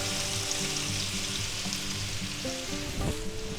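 Onions and peppers sizzling in a frying pan after minced garlic, a bright steady sizzle with faint kitchen hum underneath, close and even, with a brief clatter near the end.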